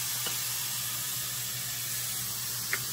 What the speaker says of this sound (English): we're just gonna saute the zucchini